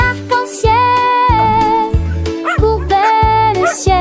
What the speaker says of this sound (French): Il aboya sur le rouge et cria sur le bleu